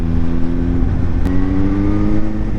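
A Suzuki GSR 750 motorbike engine revs hard and steadily close by, a continuous throaty exhaust roar with rising and falling pitch and no voices.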